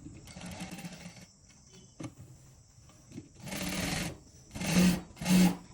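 Sewing machine stitching a saree blouse in bursts: a soft run first, then several louder rapid whirring stretches separated by pauses and small clicks, close and alone.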